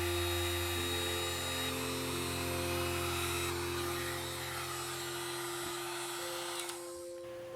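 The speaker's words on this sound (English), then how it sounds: "I just have a heat gun." A heat gun blows a steady, even electric whir with a faint hum under it, running continuously at close range and then cutting off near the end, with no talking.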